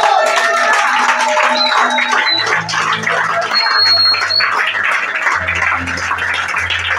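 A church congregation claps steadily and acclaims the Messiah, with loud continuous clapping under music with a low bass line and scattered voices calling out.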